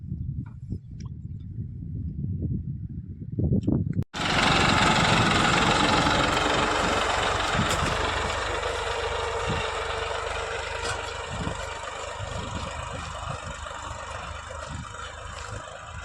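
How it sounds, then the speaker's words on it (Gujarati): A tractor engine starts abruptly after a few seconds of low rumbling, then runs loud and steady with a rough, knocking idle that continues throughout. "આવી રીતે કંઈક ટ્રેક્ટર હાલું જાય છે"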